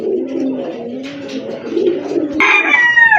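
Pigeons, Sirazi birds among them, coo in low rolling calls close by, with a brighter, higher call cutting in near the end over the steady cooing.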